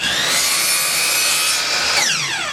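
A saw cuts through a piece of wood for a canvas frame with a steady, rasping stroke. The sound is close and continuous, and a brief pitch shift comes near the end as the cut finishes. No one speaks.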